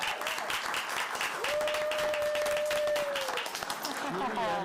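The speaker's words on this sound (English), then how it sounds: "Let's give her a round of applause." An audience applauds steadily throughout at a school district recognition event, a dense continuous clapping wash with a faint tonal whistle partway through.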